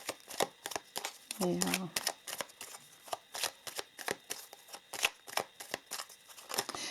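Star seeds oracle cards being shuffled in quick crisp riffles and snaps, a steady run of sharp papery bursts close by, with a brief spoken word near the start.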